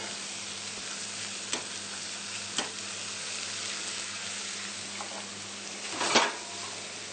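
Kangaroo fillets searing in a hot pan after being flipped, a continuous loud sizzle with a few sharp pan clicks and a louder clatter near the end, no voices.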